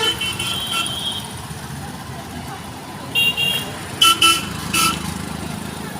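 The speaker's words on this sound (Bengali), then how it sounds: "দেখো কত গাড়ি ঘোড়া চলছে" Road traffic streams across a bridge over the Mahananda river, a steady rumble of passing cars and motorcycles broken by several short horn toots in quick succession near the end.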